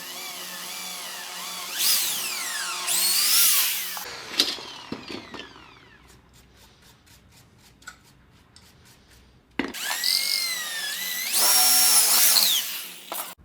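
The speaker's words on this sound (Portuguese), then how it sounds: "fiz o furo com uma broca 6mm para entrar com pressão" A power drill with a 6mm bit bores a hole in wood, a loud, close motor whine that rises and falls in pitch over two long bursts, with quiet scraping and clicks between them.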